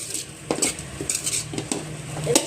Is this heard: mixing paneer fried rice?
yes